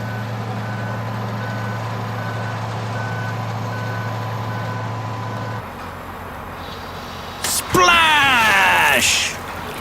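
A dump truck backs up on a riverside job site, its reversing alarm repeating in steady, evenly spaced beeps over a constant engine drone, followed by a loud splash and churning of mud and water near the end.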